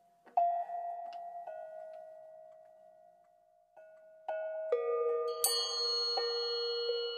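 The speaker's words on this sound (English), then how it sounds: "we can play the bells together, and they will give us a melodic background" Tuned hand bells struck one after another and then together, building from a single sustained ringing tone into layered, overlapping chimes that ring on clearly with no talk.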